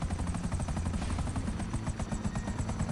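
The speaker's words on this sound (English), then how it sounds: "I almost turned my helicopter into a wood chipper." A video-game helicopter churns with a rapid, steady rotor chop, loud and close, its rhythmic thumping running unbroken throughout without any talking.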